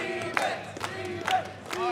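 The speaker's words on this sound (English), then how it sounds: "The crowd is energetic." Crowd at an ITGmania rhythm-game esports tournament top 8, a roar of shouting and cheering beneath repeated sharp synth notes from the game music, loud and continuous.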